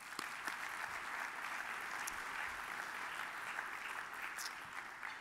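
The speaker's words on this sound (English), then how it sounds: "Let's give all of today's grant recipients a big round of applause." Grant recipients at an annual meeting plenary luncheon get sustained, even applause from a seated crowd, heard fairly distantly with no talking.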